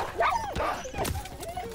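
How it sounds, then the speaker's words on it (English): Dogs attack in the Call of Duty WW2 video game with yelps and whimpers over gunfire-filled game audio, while someone talks and cries out close by. "Uh-oh. Dogs."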